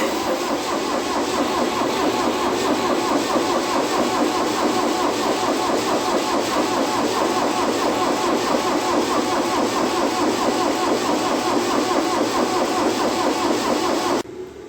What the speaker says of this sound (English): button must be depressed and held while starting engine